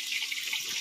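Tap water runs steadily into a sink while dishes are washed in a home kitchen, a continuous close splashing hiss with slight fluctuations and no talking.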